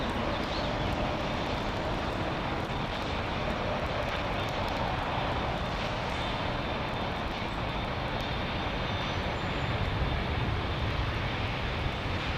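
An airliner powers up on the runway at Heathrow, a dense continuous jet roar that stays loud and even throughout.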